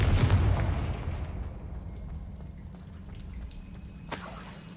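A Confringo fire spell explodes in the Hogwarts Legacy video game, a heavy boom that opens loudly, then decays into a long rumbling tail. A faint swell follows near the end.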